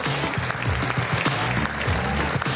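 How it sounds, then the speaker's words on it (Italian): Audience applauding award winners at a ceremony: thick, continuous clapping from a sizable crowd, loud and steady throughout with no voices standing out. "Accogliamoli come sempre con un applauso"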